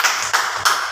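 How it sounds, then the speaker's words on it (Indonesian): A class applauds in a classroom with a brief, loud, continuous wash of many hands clapping together, swelling in a few surges. "Berikan tepuk tangan dulu"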